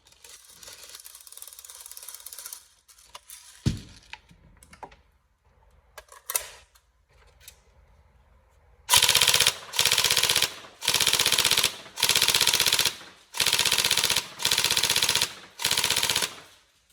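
Tokyo Marui 416 Delta next-generation electric airsoft rifle firing: a few isolated sharp cracks at first, then about seven evenly spaced, loud, close rapid bursts.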